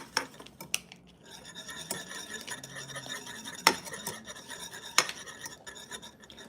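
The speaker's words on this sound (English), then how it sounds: "just keep stirring until it all dissolves" A spoon stirs apple juice and gelatin gummy bear mixture in a pot, scraping and clinking against the metal with a few sharper taps, close and fairly quiet, with no voices.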